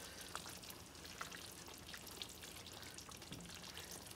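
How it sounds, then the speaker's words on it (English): Chicken curry with tomato paste is stirred in a pan, giving a steady close sizzle and frying crackle with soft scraping throughout and no talk. "Now I'm just gonna stir it for the next minute or so."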